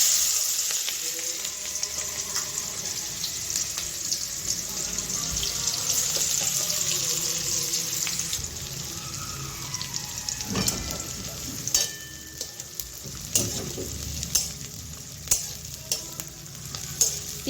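Chopped onions fry in a pan while being cooked for chicken kosha, with a steady hiss of oil and repeated clinks and scrapes of a spoon stirring against the pan, close and fairly loud.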